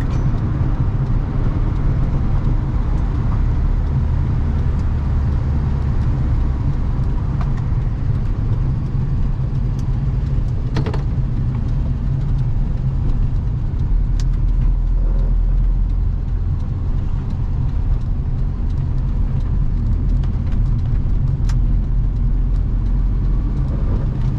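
A 1974 Volkswagen Super Beetle driving, its air-cooled engine giving a steady low rumble with road noise, heard from inside or close by and continuing without pause.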